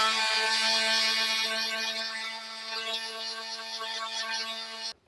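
A power sander takes a wax finish off wood at low speed, giving a steady, even whine with strong tonal hum that runs throughout and cuts off abruptly at the end.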